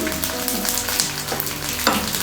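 Grated coconut sautéing in coconut oil in a pan for a Tamil coconut milk kulambu, a steady close sizzle and crackle with occasional stirring scrapes, no talking.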